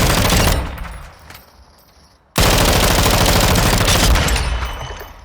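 An RPK machine gun in Call of Duty fires a loud, close burst that trails off into a lull, then a second sustained volley cuts in sharply and rattles on.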